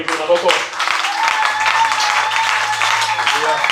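A church congregation claps and applauds in a steady, dense wash of sound, with voices talking and calling out over it throughout.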